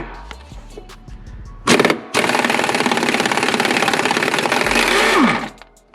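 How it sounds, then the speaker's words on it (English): An impact wrench rattles loose 14mm bolts on the upper control arm of an FD3S RX-7 during a suspension install, with a short burst and then a sustained, loud, rapid hammering run of about three seconds, close by. "the Ugga Dugga machine makes the comeback. Yep, to get the 14s off of the upper control arm"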